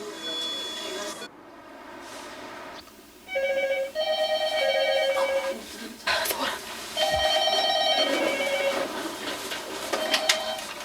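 A telephone rings with an electronic, melodic ringtone in repeated tonal bursts, moderately quiet, with other faint room sounds between rings.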